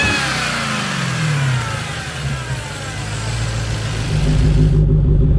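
A Dodge Hellcat's supercharged V8 revs hard and loud, pitch climbing and falling through sustained high-RPM pulls, with a heavy, dense engine roar that swells further toward the end.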